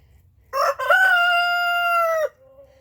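A blue Moran rooster gives one long, loud crow close by, starting with a short note and then holding a steady, drawn-out call before it trails off. No hens or voices are heard.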